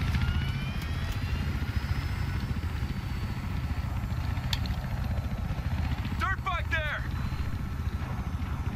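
Helicopter in Battlefield Hardline beta gameplay, a constant heavy rotor roar throughout, with brief chirping game effects and voices talking over it.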